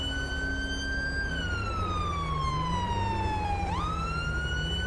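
A police car siren wails in the video game GTA 5, a steady tone slowly gliding down then snapping back up, over a constant low engine and road rumble with no talking.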